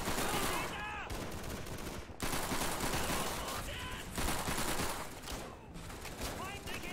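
Machine gun fire in Call of Duty 3 comes in loud, dense bursts separated by brief gaps, rattling almost continuously across a battlefield.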